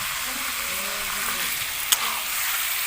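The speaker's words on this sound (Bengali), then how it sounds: "তো ভালোভাবে এবার মাংসটা আমি কষিয়ে নেব" Chicken sautés in a pan for Kashmiri chicken, a soft steady sizzle with faint stirring scrapes and one sharp click near the middle.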